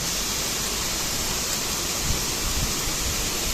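Chopped beans and carrots sizzle in a hot pan, a dense, steady hiss of frying, close and continuous.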